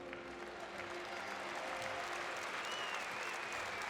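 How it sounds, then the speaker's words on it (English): A large arena crowd at the EHF EURO 2014 handball final between Denmark and France claps in a dense, steady wash of applause, with an announcer's voice faintly over it. "Big applause to the delegates, ladies and gentlemen."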